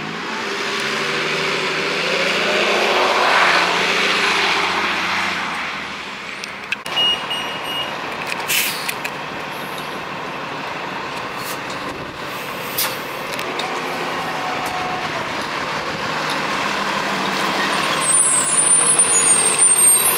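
A Gillig low floor 40-foot transit bus rumbles close by at a parking structure, with a steady engine drone, sharp hisses of air brakes and a rise as it pulls away.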